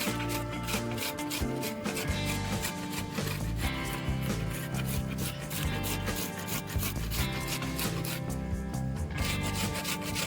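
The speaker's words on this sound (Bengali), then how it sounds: "এটাকে একটা গ্রেটারের সাহায্যে যেটার বড় মুখ আছে গ্রেটারে সেই মুখটা দিয়ে এটাকে একটু ঘষে নিতে হবে" Star fruit is rubbed against the large holes of a coarse grater, making close, rhythmic rasping scrapes that repeat in quick strokes throughout.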